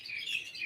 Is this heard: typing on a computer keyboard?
no